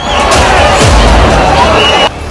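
A dense crowd of devotees roars and shouts outside Tirupati temple as bulls push through, a loud, surging wall of mixed voices close by with a brief swell before it drops.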